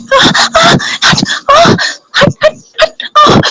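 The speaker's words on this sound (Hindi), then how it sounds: "ये कुत्ता हटाओ" A dog indoors lets out a run of sharp yips, barks and whimpers in quick, uneven bursts, loud and close, with people talking around it.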